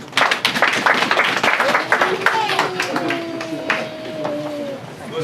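A church congregation applauds to acclaim the Lord in a dense burst of clapping that starts loud and gradually thins out, with voices and singing threading through it.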